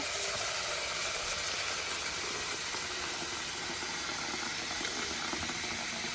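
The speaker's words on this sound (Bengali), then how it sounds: "আর এদিকে ডিমটাও সিদ্ধ করে নিব, ডিমটাও সিদ্ধ করে রেখে দিব" Eggs boil in a pot on the stove, giving a steady, even hiss of steam and rolling water that holds at a constant level throughout, with no talking.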